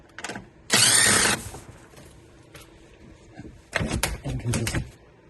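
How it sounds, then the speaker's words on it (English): A ratchet with a 10mm socket works on the transmission cover of a Toyota AWD transaxle, giving short bursts of quick clicking, one loud burst early on and a cluster of bursts later, with quiet pauses between them. "10mm socket to remove the cover."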